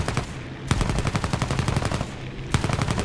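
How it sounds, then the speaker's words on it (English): Aircraft machine-gun fire in War Thunder from a Fiat C.R.42 CN fighter, heard as rapid sustained bursts of rattling shots over a constant engine drone, loud and close, with a brief pause between two long volleys. "get down there and shoot shit at him"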